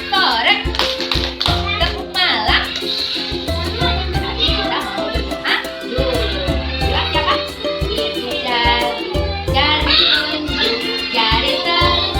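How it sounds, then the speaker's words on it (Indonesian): Children in a classroom do a rhythmic spirit clap, crisp claps in patterned bursts mixed with a teacher's and kids' chanting voices throughout, close and lively. "Yuk kita tepuk semangat dulu."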